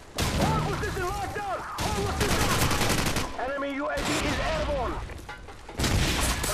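Call of Duty 4 gunfire rattles in dense, loud bursts and rapid shots amid smoke, with booms and game effects, continuing almost without pause while a voice talks over it.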